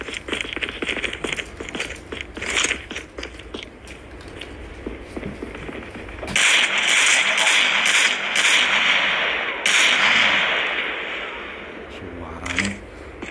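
Sniper rifle shots in a mobile shooting game played on a Samsung Galaxy S20 Ultra, sharp cracks spaced apart under steady game noise and a voice talking over it.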